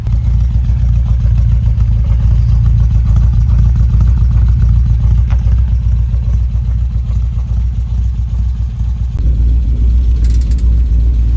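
A 1983 Volvo 242 engine runs loudly and steadily nearby with a deep low rumble, idling evenly throughout, a slight shift in tone near the end.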